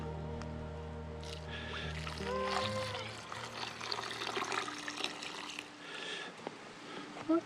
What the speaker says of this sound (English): Pour the old milk in.